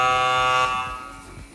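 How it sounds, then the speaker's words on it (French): A game show buzzer on a French cooking show set blares a loud, steady electronic tone for about half a second, then cuts off and leaves quieter room noise behind. "là je pense qu'il faut buzzer"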